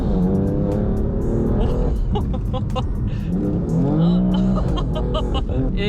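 A 600-horsepower BMW M4 engine roars as it accelerates, loud and close, with rising and falling revs through gear changes and faint tire noise.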